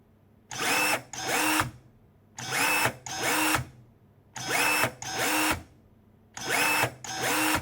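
Kebtek KTE-35 cordless pruning shears with a brushless motor cut repeatedly, giving four pairs of quick motor whirs, each pair evenly spaced with short quiet gaps between.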